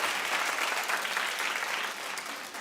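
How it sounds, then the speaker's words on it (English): A studio audience at a daytime talk show breaks into steady, dense applause that fills the whole stretch, loud and even, tapering slightly toward the end. "Clap if that wasn't your song."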